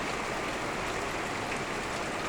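Heavy rain pours in a dense, unbroken roar of water, loud and even from start to finish, with no voices.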